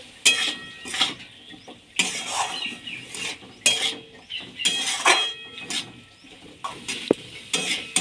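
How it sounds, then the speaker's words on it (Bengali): A spoon stirs poppy seed paste and chopped tomato in a pan, giving repeated scraping strokes and clinks against the metal with a faint sizzle underneath, close and steady in an irregular rhythm. "টমেটো কুচি দিয়ে ভালো করে নেড়ে নেব।"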